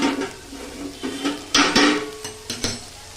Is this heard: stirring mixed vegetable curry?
yes